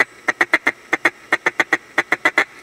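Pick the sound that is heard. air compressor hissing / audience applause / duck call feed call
duck call feed call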